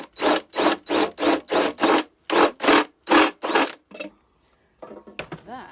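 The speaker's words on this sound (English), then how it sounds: "Put some sandpaper back there. File that down." Sandpaper is rubbed back and forth on a vintage advertising tin clock build, about ten rhythmic, even rasping strokes close up, then a short pause and a few lighter scrapes.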